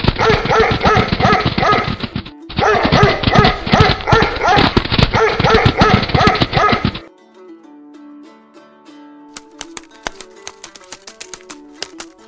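A Taigan, a Kyrgyz hunting and guard dog, barks in rapid, loud, dense bursts for about seven seconds with one brief pause, then sparse, quieter tonal music follows.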